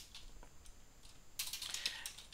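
Rapid clicking of computer keyboard keys while Python code is typed, starting after a short quiet stretch, then continuing as a close, steady, slightly irregular burst of keystrokes.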